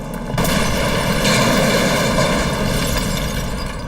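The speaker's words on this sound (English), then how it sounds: "5 explosions rock Manhattan." A loud explosion hits with a sudden onset and rolls into a sustained, dense roar that slowly fades without clearing, in a documentary-style sound effect of bombings in Manhattan, New York City, in 1974.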